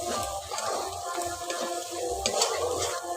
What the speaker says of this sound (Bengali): এই উপকরণগুলো দিয়ে ভালো করে একটু মশলাটাকে কষে নিচ্ছি